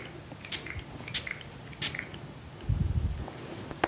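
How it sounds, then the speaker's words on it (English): A spray bottle mists the bubbly top of freshly poured melt-and-pour soap, giving a few short, sharp hissing spritzes spaced apart, with a low rustle of handling near the end. "I've got a few little bubbles on top of my soap, so I'll spray it again."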